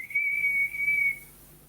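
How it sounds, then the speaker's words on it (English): A person whistles a single sustained, steady tone of a little over a second, the kind once used by enslaved people in Jamaica to signal one another, loud and clear against a quiet background. "this is the way how the slave them used to communicate. It starts from whistling."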